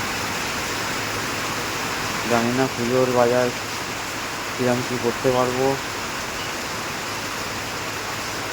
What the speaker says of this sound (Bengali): দেখুন কী হারে বৃষ্টি চলছে, রাস্তায় জল জমে গেছে।